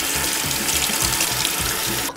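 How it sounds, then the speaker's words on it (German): Tap water runs steadily over pumpkin seeds as they are washed clean of leftover pulp, a continuous close rushing splash that cuts off abruptly at the end. "Die Kerne werden von dem überschüssigen Fruchtfleisch abgepult und die werden dann gründlich gewaschen."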